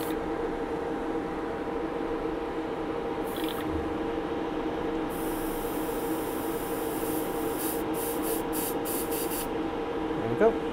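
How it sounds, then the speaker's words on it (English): An airbrush hisses steadily as it sprays red paint onto Stalingrad-themed wargame terrain, a continuous faint airy spray running nearly the whole time, with a few brief pauses and small clicks. "You can see the red in there with a little airbrush."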